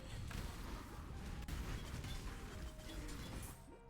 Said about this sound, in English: There's a lot of explosions everywhere.